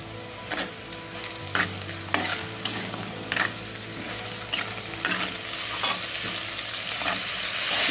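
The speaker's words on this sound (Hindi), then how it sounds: "इसमें मैंने लहसुन डाल दिया है।" Garlic frying in a pan with red chili, coriander and turmeric crackles in a steady close sizzle, punctuated by several sharp stirring clinks and scrapes of a utensil, with no speech.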